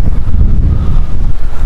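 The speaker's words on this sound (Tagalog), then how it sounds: "Malakas yung hangin." Strong typhoon wind during a Signal No. 4 storm in Benguet roars as a dense, low rumble buffeting the microphone, continuous and loud throughout with no voices.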